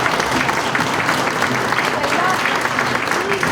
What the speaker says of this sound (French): c'est tout un poème, on applaudit.